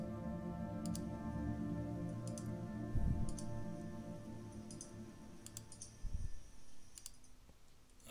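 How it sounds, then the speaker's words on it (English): Computer mouse clicks come in small quick clusters, faint and scattered over a low steady hum, with a couple of duller knocks between them. "I like how you can all hear my clicks too, like clicking on stuff"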